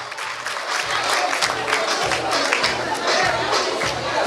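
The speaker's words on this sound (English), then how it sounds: "Ladies and gentlemen, round of applause for Mustafa Ka." An audience at a children's talent show applauds steadily for an arriving judge, a dense, loud, even clapping roar with a faint rhythmic pulse underneath.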